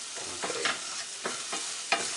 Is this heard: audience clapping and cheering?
no